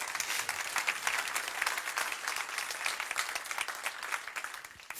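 A live audience gives a sustained round of applause, dense, even clapping that fills the whole stretch on its own, moderately distant and fairly quiet.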